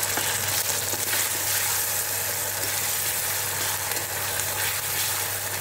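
Onion and spices sizzle steadily in hot oil as tomato is added for a radish kofta curry. The frying is a continuous, close, crackling hiss with no talking and a low steady hum underneath.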